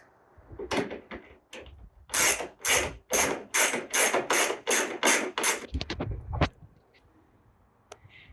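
A long Torx T30 tool loosens a screw on a Ford Transit sliding door track, giving a close burst of about eight rapid, loud ratcheting clicks after a few lighter knocks, then quiet.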